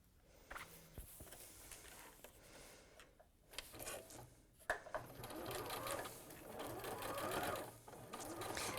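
A home sewing machine stitches fabric in short bursts of rapid mechanical chatter that grow busier and louder toward the end, with faint movement sounds between runs.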